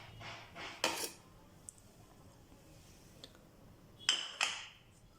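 Chopped onions go into urad dal vada batter in a bowl, heard as a few soft clinks and taps of a utensil against the dish, with quiet scraping between them, close and faint.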